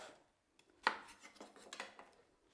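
A knife cuts through an onion on a board, a few sharp close chops and taps with a louder strike near the middle, fairly quiet and with no talking.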